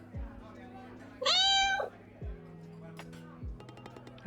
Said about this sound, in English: The cat's back, everybody.